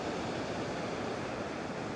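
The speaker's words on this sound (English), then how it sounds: "The waves are still fairly big" Big surf on a beach after Hurricane Priscilla, in Puerto Vallarta under a red flag. The waves wash in a steady, loud, close roar that stays dense the whole time, with some wind noise.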